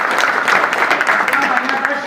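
A crowd claps at a fort trek event at Pratapgad, where dense, continuous applause fills the air at close range for a couple of seconds with voices mixed in.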